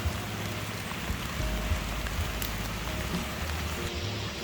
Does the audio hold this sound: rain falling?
yes